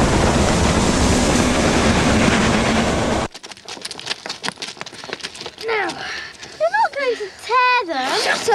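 A train rumbles loudly past for a few seconds, then cuts away to quieter sounds with clicks and rising and falling whistle-like tones.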